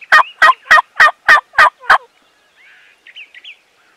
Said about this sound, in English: That's a big gobbler, though.